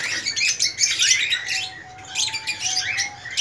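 Diamond doves in a breeding setup give soft, repeated chirps and calls in short bursts, fairly close, with a faint sustained tone in the background.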